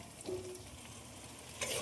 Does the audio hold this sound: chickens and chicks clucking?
no